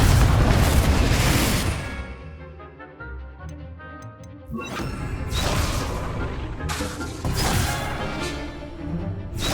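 In Hogwarts Legacy, a Confringo fire spell goes off as a loud booming blast. Its crackle fades with ticking debris before further heavy magical bursts and rumbling hits follow, all up close.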